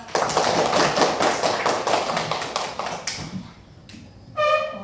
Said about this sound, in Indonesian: Ya, tepuk tangan untuk Nur Hanifah.